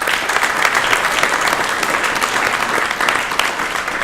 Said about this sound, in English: Can we give each other a big round of applause?